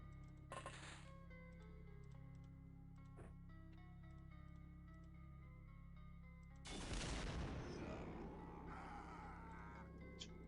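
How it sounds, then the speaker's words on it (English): A rocket launcher fires in a tank video game: a short sharp burst early on, then a loud blast near the end that rings out and decays over a steady hum of game sound. "One more rocket launcher."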